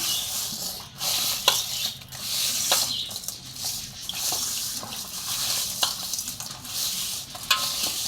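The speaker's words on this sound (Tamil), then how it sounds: "கல் உப்பு போட்டு உரைக்கணும்" Lena rock fish and purple-tail rock fish are scrubbed by hand with coarse rock salt, a close, gritty scraping that comes in repeated rough strokes with short pauses between them.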